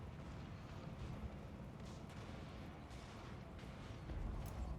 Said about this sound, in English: We've got some shots going out.